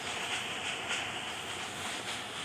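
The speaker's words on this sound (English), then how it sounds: "Look how long is this train." A long train rolls past in the mobile game Indian Bike Driving 3D, a steady, continuous rumble and hiss of rail cars held at an even level throughout, with no talking.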